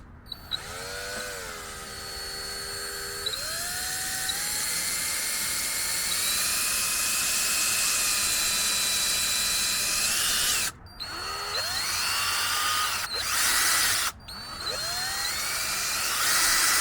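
A power drill whines loudly as its bit bores into antler, pitch rising as it spins up, briefly stopping twice before starting again, close by.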